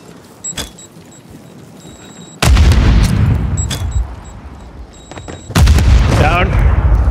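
Two loud, close booms from grenade-like explosions in a shooter video game each hit suddenly and leave a rumbling tail. Fainter gunshots and voices come between them.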